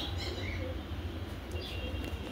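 Andhra pigeons coo softly inside an aviary breeding box, a faint murmur under steady background noise and a low hum.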